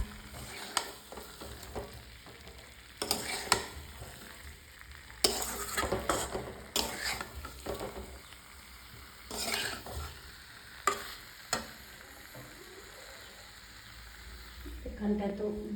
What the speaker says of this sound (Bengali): এখন ডিম আর আলু ঢেলে দিয়ে একটু জল দিয়ে নেড়ে দিয়ে একটু নাড়া দেবো